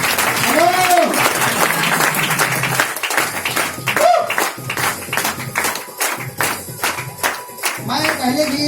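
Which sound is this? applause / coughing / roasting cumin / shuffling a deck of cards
applause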